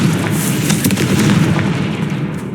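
A Confringo explosion spell cast in Hogwarts Legacy, a dense rumbling burst of blasts and crackling impacts that stays loud and sustained throughout, with no talking.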